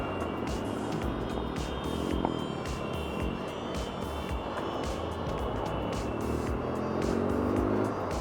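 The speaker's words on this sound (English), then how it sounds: "then you see a little group of fancy cars going past" A small group of fancy cars in a VIP convoy drives past on a road in Kenya, giving a continuous rumble of engines and tyres with a brief surge near the end, and no speech.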